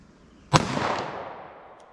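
A single loud 9mm handgun shot firing a Federal JHP round, a sharp crack followed by a decaying echo tail that fades over about a second and a half.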